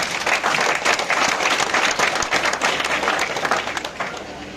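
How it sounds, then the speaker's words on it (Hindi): A college induction audience claps loudly for students with high class attendance, a dense, steady burst of applause that fades slightly toward the end. "इनके लिए भी तालियां बजाएं आप"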